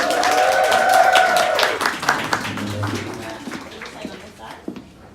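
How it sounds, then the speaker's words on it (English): An audience at a London curly-hair party claps to welcome a panel guest; dense, crisp clapping fills the room and gradually thins out, with people talking over it. "So please welcome Janell. Round of applause"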